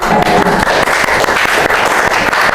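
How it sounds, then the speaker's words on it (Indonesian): Students in a vocational high school classroom clap together after a math lesson answer. The claps are loud and close, landing in a quick rhythmic pattern of distinct hand strikes. "Benar ya, tepuk tangan."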